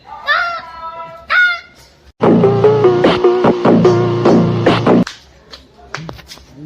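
A person imitates a crow call with short cawing vocal bursts, then a longer run of harsh, honking cries, followed by a few quieter calls.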